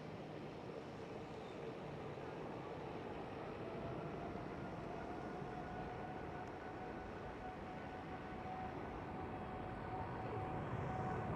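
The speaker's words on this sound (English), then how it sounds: "There goes the Emirates 777." An Emirates Boeing 777 at Amsterdam Schiphol gives a steady, continuous roar, moderately distant, with a faint whine running through it and no break across the span.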